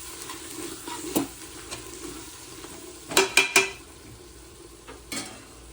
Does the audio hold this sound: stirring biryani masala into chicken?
yes